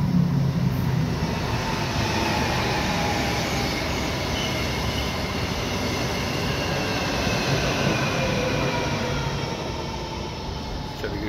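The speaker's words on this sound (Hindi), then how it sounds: "तो ये देखें पीछे से इनकी एक ट्रेन आ रही है, उस ट्रेन का भी नज़ारा आपको दिखाता हूँ।" A Russian fast train rushes past close by, a loud, continuous roar of wheels and rushing air filling the whole stretch and easing only slightly toward the end, with no voices.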